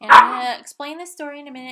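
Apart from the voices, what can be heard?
dogs growling and barking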